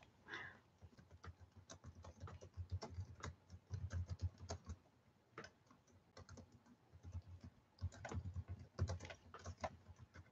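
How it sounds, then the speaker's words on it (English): Soft typing on a computer keyboard at a crafting desk, bursts of quick keystrokes separated by short pauses, fairly quiet and alone without speech. "Let me type my little bye-bye thing in here."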